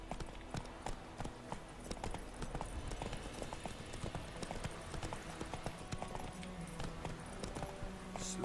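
A horse's hooves clip-clop in a quick, steady rhythm as it is ridden across the ground in The Witcher 3: Wild Hunt, with faint game ambience beneath and no talking.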